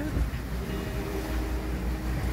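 A sailboat motors through a choppy sea, its engine droning steadily beneath wind rush and slapping water in a continuous, even roar.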